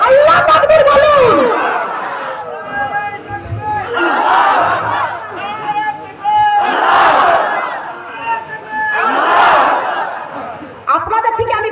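A large crowd roars a takbir chant in three or four loud, swelling bursts, each call rising and fading before the next surge of massed voices.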